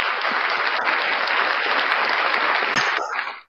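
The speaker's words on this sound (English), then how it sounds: "Let me give myself a round of applause for that." A steady burst of applause from a talk-show studio audience, dense and even for a few seconds before cutting off abruptly.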